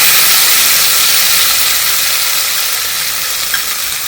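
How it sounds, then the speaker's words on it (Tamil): Ground dried chili and anchovy paste hitting hot oil, a loud, dense, continuous hissing sizzle that eases slightly over a few seconds, with no voices. "அரைச்சி இதை அந்த பேஸ்ட்டை இந்த எண்ணெயில்"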